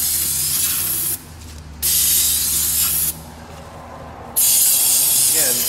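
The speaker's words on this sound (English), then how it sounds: "this is just regular brake cleaner. Just spray it in the back here and around the outside" Aerosol brake cleaner sprayed onto the back and outside of a vehicle's brake drum in three loud, close hissing bursts, each lasting about a second or more, separated by short quieter pauses.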